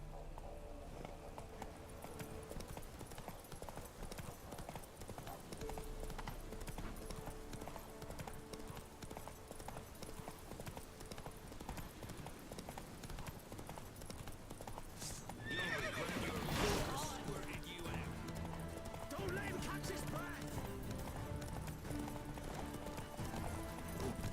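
Roach the horse in The Witcher 3 video game, with clip-clop hoofbeats and a whinny over a soft game music bed. A louder burst of action and a brief voice come in partway through.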